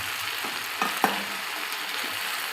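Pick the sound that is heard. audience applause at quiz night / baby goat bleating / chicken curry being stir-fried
chicken curry being stir-fried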